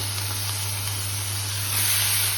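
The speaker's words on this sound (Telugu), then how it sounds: "నేను అల్లం ఒకటి వేసాను. ఇవన్నీ పచ్చి ఉల్లిపాయ కదా, ఇది బాగా వేగాలి." Raw onion and ginger frying in a pan for capsicum paneer curry, heard as a steady, close, hissing sizzle that swells slightly louder near the end, with no talking.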